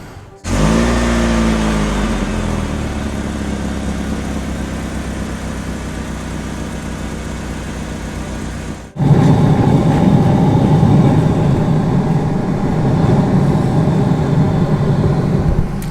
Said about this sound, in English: while I'm running this pump, I'll go outside and film the noise from outside. It is making noise